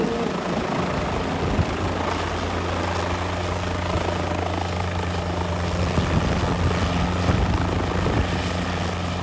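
A helicopter hovers at maximum power at an outdoor vintage vehicle and aircraft show, a loud, steady rotor thrum and turbine roar held close and unbroken throughout.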